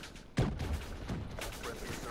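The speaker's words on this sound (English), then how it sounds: "And then I get shot with a damn nail gun." A nail gun firing in the Call of Duty: Black Ops III video game, one sharp, loud burst followed by a few fainter thuds and hits in a busy, reverberant game mix.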